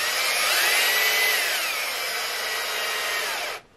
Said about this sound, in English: you can actually put it in a drill and twist it.